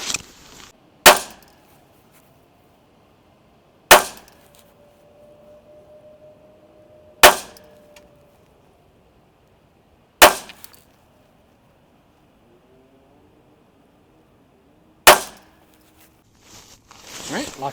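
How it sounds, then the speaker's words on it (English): A Ruger SFAR rifle fitted with a Huxwrx 7.62 QD suppressor fires outdoors at a target, giving several sharp, loud muffled reports spaced a few seconds apart, with near silence between them. "I'm going to shoot it onto that same target now with the can, and we should be able to see point of impact change."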